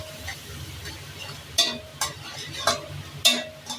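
Spices frying in a pan for a potato and shrimp curry: a steady close sizzle broken by four sharp scraping clinks of a spatula stirring against the pan.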